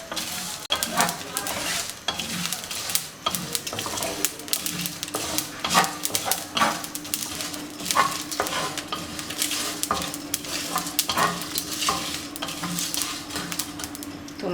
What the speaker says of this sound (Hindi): अब इन मसालों को रोस्ट कर लेंगे अच्छे से।